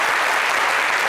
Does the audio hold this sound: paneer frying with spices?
no